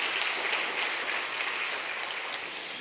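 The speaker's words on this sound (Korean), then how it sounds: "일어서시면 환영의 박수 드리겠습니다" A church congregation claps to welcome new families during a Sunday service, an even, continuous wash of applause from many hands throughout.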